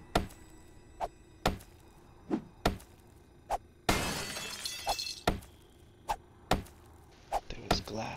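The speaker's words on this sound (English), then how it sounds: "There was glass on this door." Glass on a door breaks in the video game 7 Days to Die: a burst of shattering amid a steady series of sharp, rhythmic whacks and chops against the door.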